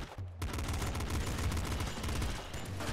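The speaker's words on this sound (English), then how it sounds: "Popgun should do a decent job here." Popgun firing in the video game Nuclear Throne, a dense, rapid stream of shots that keeps up almost without a break for the whole stretch, loud and close.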